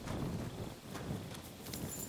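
Steady hoof clip-clop of a horse walking in the video game Kingdom Come: Deliverance II, continuous and fairly quiet, with no voices.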